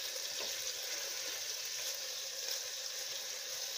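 Food frying in a slow cooker pot, a faint steady sizzle and crackle that holds evenly throughout with no talk.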